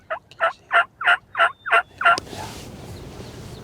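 A wild turkey gobbles in an urban spot during spring turkey season, seven sharp rhythmic gobble bursts in a rapid series, fairly close and loud, then broadband rustling noise.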